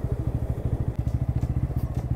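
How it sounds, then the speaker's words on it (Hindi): Bajaj Pulsar N160 motorcycle engine thumping in a fast, steady pulse during a wheelie attempt on a road, close and loud with no talk over it. "इस रोड पे ना एक बार व्हीली ट्राई करता हूँ मैं"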